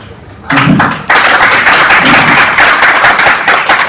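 At the close of a presentation at a food and agro-business roundtable, an audience bursts into dense, steady clapping that starts abruptly and carries on loudly for several seconds.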